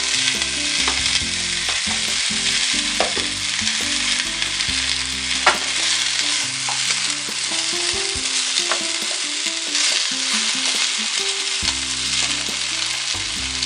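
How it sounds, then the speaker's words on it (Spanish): Continuous loud sizzling of potatoes frying in hot oil, with occasional clinks of a utensil, close up and no talking. "oigo que chilla el aceite, esto quiere decir que ya tiene la temperatura que necesito"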